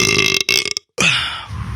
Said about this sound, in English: Do anything cool besides burping into the mic?